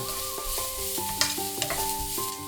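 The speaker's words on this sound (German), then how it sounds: "Möhren in die Pfanne geben. Kurz braten." Carrots sizzle and scrape in a hot pan with ginger and garlic as they are stir-fried, with a steady crackle and occasional sharper clinks of a utensil, while soft music plays underneath.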